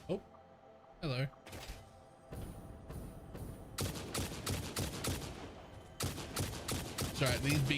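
Bursts of rapid gunfire crackle repeatedly, some in quick automatic volleys, with a voice briefly heard between the shots.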